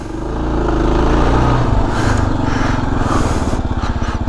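A Kawasaki KLR 650 motorcycle pulls away in first gear, its single-cylinder engine throbbing loudly up close and rising from idle into a quicker, uneven putter as it moves off, with no talking.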